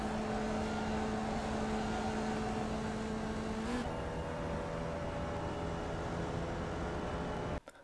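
A Formula Vee race car engine in iRacing at Tsukuba drones at full throttle with a steady, buzzing tone that shifts pitch partway through as the car comes out of a corner. It plays alone and cuts off sharply near the end.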